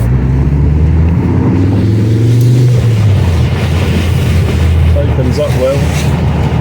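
Mk 2 Ford Focus ST, lightly modified, accelerating: a loud near engine note rising in pitch, then easing into a rumbling roar.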